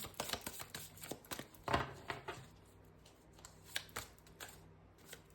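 Tarot cards being shuffled by hand in a quiet room: a close, irregular run of soft riffling clicks and papery slaps, with one fuller flurry and scattered taps between quieter gaps.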